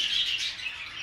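Budgerigars chirp in a breeding aviary, a dense wash of high, bright twittering from many birds at once, moderately faint and continuous with no voices over it.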